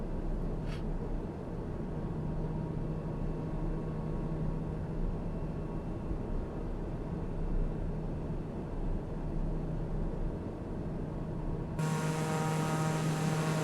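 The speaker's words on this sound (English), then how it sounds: "5 of 8 Squirrel aircraft are airborne." Steady, loud drone of a light aircraft engine in flight in Microsoft Flight Simulator, a continuous hum with a low tonal line, running unbroken and alone, its tone shifting near the end.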